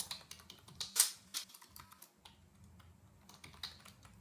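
Fingers tap on a computer keyboard while someone enters data for a MySQL import, making close, irregular clicks with a few louder key strikes and short pauses.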